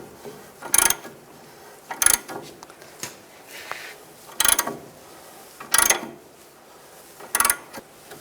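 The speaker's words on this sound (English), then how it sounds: "As I tighten it up, it's pushing the ball joint in." A ball joint press tool on a 2005-15 Nissan Xterra front upper ball joint gives five sharp metallic ratcheting clicks at a steady pace as it is tightened, with quieter handling noise between them.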